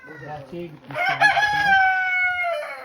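Chickens and roosters of many breeds at a poultry keeper's yard: soft low clucking for about a second, then a loud, close rooster crow that rises and holds a long drawn-out note before trailing off.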